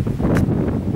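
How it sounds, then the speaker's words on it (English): Wind buffets the microphone in a low, continuous rumble with a brief gusty rush, close and fairly loud. "Why is it windy?"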